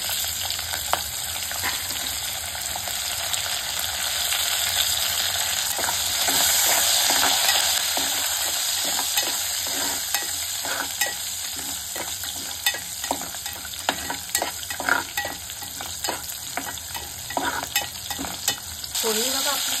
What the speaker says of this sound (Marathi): फोडणी बघा आपली चांगली तडतडली आहे का.